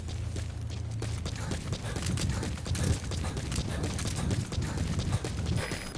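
In the Metal Gear Solid V video game, horse hooves clip-clop in a steady, fast rhythm across open wilderness, loud and continuous beneath a dense wash of game ambience.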